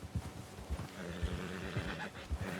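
A horse in the video game Red Dead Online walks with rhythmic hoof clops and snorts, fairly close and steady throughout.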